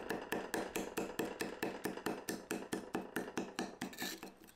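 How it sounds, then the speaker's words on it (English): Paint scraper chopping leaves for handmade leaf paper, a rapid, regular series of sharp close chops, roughly five per second, with no talking. "using a paint scraper and just giving them a whole bunch of chops"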